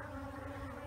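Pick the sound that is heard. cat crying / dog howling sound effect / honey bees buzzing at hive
honey bees buzzing at hive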